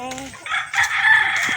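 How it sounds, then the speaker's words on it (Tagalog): A rooster crows loudly and close by in a short, strained burst, with a hen's clucking just before it. "Daming manok."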